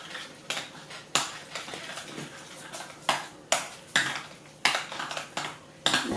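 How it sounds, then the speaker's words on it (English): A utensil stirs eggs into pumpkin pie filling in a bowl, giving repeated sharp scraping knocks against the bowl at an irregular beat, each sharp at the start and then fading, with no voices. "I'm just going to start incorporating those with a little bit of stirring."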